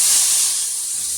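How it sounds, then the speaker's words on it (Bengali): Mustard paste hits hot oil with a loud, steady hiss that starts at full strength and fades slightly over about a second. "তেলের মধ্যে ছেড়ে দিচ্ছে, দেখুন সর্ষে মশলাটা।"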